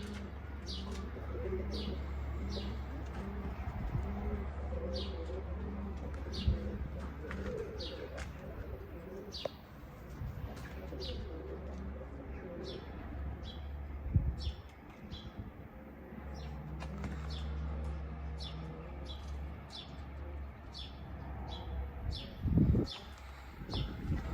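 Pigeons cooing in a loft, repeated soft throaty coos in a steady rhythm close by, with occasional light chirps and a brief flutter of wings.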